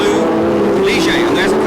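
A 1976 Formula 1 race car engine at the pits during the US West Grand Prix, a loud, steady high-pitched engine drone with a commentator talking over it.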